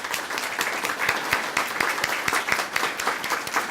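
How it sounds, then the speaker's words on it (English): Audience clapping at a student of the month ceremony in Temecula, a steady round of applause with distinct individual claps audible throughout, fairly close and sustained. "we want to give you a great round of applause"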